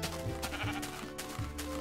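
Sheep in the video game Minecraft bleat several times in a row, short wavering baa calls repeating close by over a steady background.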